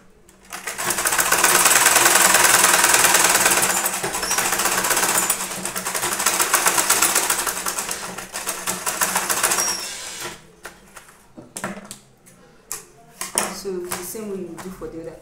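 A sewing machine stitches a tote bag in a loud, steady whirring run lasting about ten seconds, then breaks into short stop-start bursts with clattering handling noises between them.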